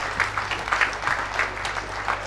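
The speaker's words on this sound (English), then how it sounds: "Can we give His Excellency another round of applause?" An audience at a Uganda free zones facility commissioning event applauds the President of Uganda, with steady, moderately loud clapping from a crowd filling the room.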